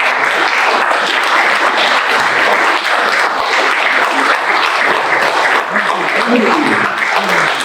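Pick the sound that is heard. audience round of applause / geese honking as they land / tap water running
audience round of applause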